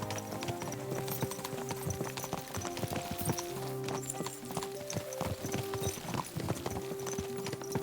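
Horse hooves in Kingdom Come: Deliverance 2, steady rhythmic clip-clopping at a walking pace close by, over a low ambient bed with no talk.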